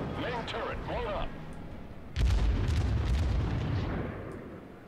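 Warship main turret salvo in the World of Warships naval game, a heavy low boom that rolls and rumbles for a couple of seconds after someone talks briefly beforehand, loud and close over background battle noise.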